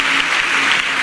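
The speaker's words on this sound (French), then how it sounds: "On acclame très fort." A crowd at a religious gathering in Côte d'Ivoire claps loudly, a dense and steady wash of applause that fills the whole brief moment.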